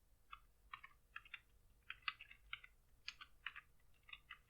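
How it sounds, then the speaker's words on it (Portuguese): Soft, rapid typing on a computer keyboard, a quick irregular run of light key clicks close to the microphone in a quiet room. "Vou digitar aqui um texto."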